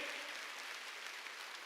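Congregation clapping during a church sermon, a brief dense burst of applause heard fairly faintly and without speech.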